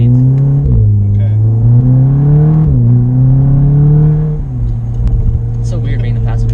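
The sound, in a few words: stage 2 Volkswagen Golf R engine and exhaust while driving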